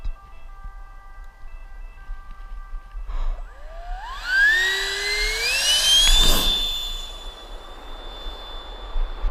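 A 70mm electric ducted fan radio-controlled model jet spools up to full throttle for takeoff. A rising, sweeping whine climbs steeply in pitch, swells into a loud rushing roar, then recedes into a steady distant hum.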